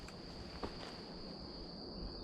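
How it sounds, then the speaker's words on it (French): Steady high-pitched cricket chirring fills the background, continuous and fairly faint, with a few soft scuffs of movement nearby. "Des grillons?"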